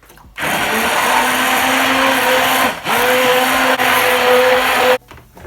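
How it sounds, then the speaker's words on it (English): A blender blending oats and water for oat milk whirs loudly at high speed for several seconds, its motor pitch dipping briefly midway before it switches off. "So let's start blending."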